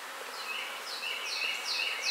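Honey bees buzz around a hive being fed sugar syrup, a close, steady hum with repeated rising and falling whines as individual bees fly past.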